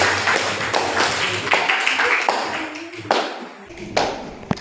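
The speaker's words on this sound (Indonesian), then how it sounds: "kasih tepuk tangan" Classroom students clapping for a classmate's answer during a lesson, a ragged scattering of claps and taps that thins out and trails into separate slaps near the end.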